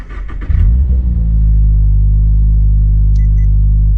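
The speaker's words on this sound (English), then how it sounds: "turn on the car, it's pretty much always foot on the brake, clutch all the way in" A manual-transmission car engine cranks briefly, catches, and settles into a loud, steady low rumbling idle.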